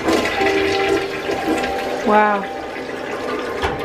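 A household toilet flushes with a loud, close rush and gurgle of draining water while a person's voice exclaims over it.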